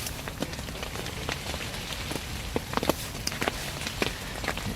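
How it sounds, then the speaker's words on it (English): Rain and wind sweep across a fishing lake outdoors, a constant rushing patter with scattered sharper drops and gusty swells, no voices. "blast of wind and rain and puddles and all sorts of stuff everywhere now"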